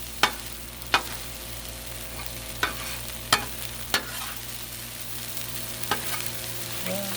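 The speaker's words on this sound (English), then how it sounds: "Ooh, sure gives it a whole new sizzle." Canned sloppy joe filling frying on a Blackstone griddle, a steady soft sizzle broken by several sharp spatula clacks against the metal surface at uneven intervals.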